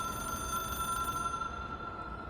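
A hotline phone, an object of power in the video game Control, rings with a steady electronic tone over a low background hum, continuous and moderately loud for the whole stretch.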